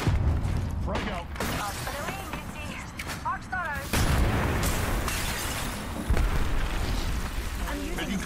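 Frag grenade blasts and heavy gunfire in a first-person shooter video game, several loud booms landing amid rapid shooting, with voices talking over the chaos.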